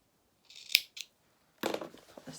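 Scissors snip felt fabric close by in two short bursts, then make a longer crisp cutting sound, with quiet pauses between the cuts.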